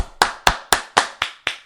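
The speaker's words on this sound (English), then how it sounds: "That's a round of applause if you're wondering at home." Six sharp, evenly spaced handclaps ring out close by in quick succession, a short, brisk round of applause with nothing else heard around it.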